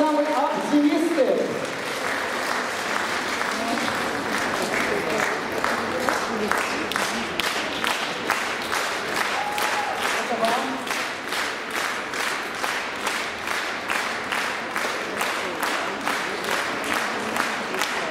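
Lively audience applause at a gala song concert. After a brief voice at the start, the clapping settles into a loud, rhythmic unison beat that keeps going for over fifteen seconds.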